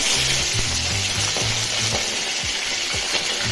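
Dry red chillies and green chillies sputter and crackle in hot oil, a loud, steady close-up frying sizzle with bursts of popping throughout and no talking.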